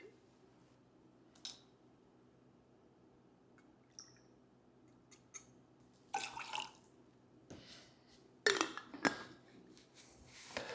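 Lemon juice being poured into a jigger for a party shot: a few short, quiet liquid splashes and trickles separated by near-silence.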